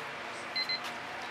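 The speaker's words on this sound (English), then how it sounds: "And there's the timer, which means we got a couple minutes left." A kitchen-style timer set during a fluid acrylic painting session gives two short, high beeps over quiet room hiss.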